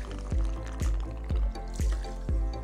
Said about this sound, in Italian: versiamo all'interno del mixing tin 3 cl di cognac